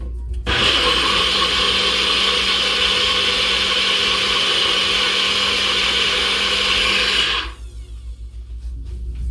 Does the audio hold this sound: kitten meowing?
no